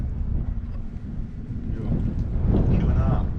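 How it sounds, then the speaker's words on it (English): Wind buffeting a microphone on an exposed hilltop on the Heysen Trail near Mount Bryan, a low rumbling gusty roar that swells stronger toward the end, close and loud. "it's a bit windy up the top here"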